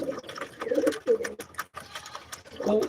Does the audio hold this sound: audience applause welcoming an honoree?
no